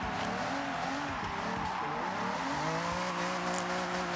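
Car tires squealing in long, wavering tones as a vehicle drifts on a mountain touge road in Forza Horizon 6, over a steady engine drone throughout.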